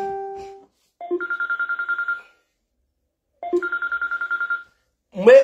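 A telephone rings in two clear bursts of rapid warbling trills separated by silence, loud and close, with a voice starting to speak right after the second ring.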